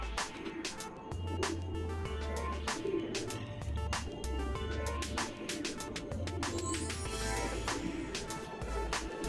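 Racing pigeons coo in a loft in a low, repeated throbbing rhythm, with frequent sharp clicks and wing flutters over a faint background hum.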